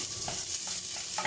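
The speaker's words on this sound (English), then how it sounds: "That's a beautiful sizzling noise that Chinese stir fry makes." Celery and garlic sizzle steadily in very hot oil for a Chinese stir fry, a continuous broadband hiss with small bursts of popping, close and alone with no voices.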